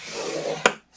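Cardstock scored on a scoring board with a stylus, a steady scraping rub drawn along a groove, then a sharp brief click near the end before a short pause.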